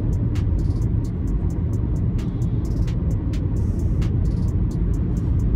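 A Peugeot e-208 electric car on the move carries a continuous low road rumble and tyre noise from inside the cabin, with a few faint clicks above it.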